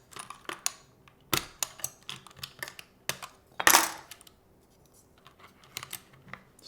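Typing on an NK65 prototype mechanical keyboard: irregular bursts of crisp, fairly muted keystrokes at close range, with one louder clustered clack partway through and quiet pauses between runs.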